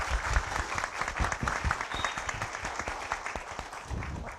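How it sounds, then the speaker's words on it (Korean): An audience at a knowledge-property talk concert applauds four panelists, a dense patter of many hands clapping steadily at moderate volume with no voices over it. "네 분께 여러분 큰 박수 다시 한번 부탁드리겠습니다"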